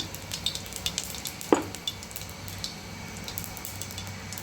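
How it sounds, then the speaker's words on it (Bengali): Onion, garlic and ginger paste goes into hot oil spiced with cardamom, cloves, cinnamon and cumin, giving a soft steady sizzle with light stirring clicks and one sharper utensil knock near the middle. "পেঁয়াজ রসুন আদা একসঙ্গে পেস্ট করে নিয়েছি আমি এটা দিয়ে দিলাম"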